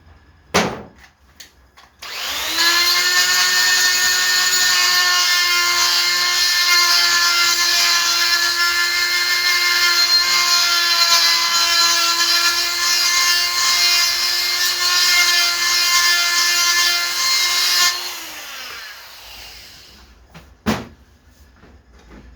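A sustained high-pitched sander whine with a steady grinding tone, rough-grinding an aluminium cylinder head, runs for about fifteen seconds, loud and close, then spins down.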